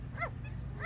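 A pet animal, apparently a bird, imitates a dog's bark on command with two short, brief yip-like calls, quiet and close, in a quiet room.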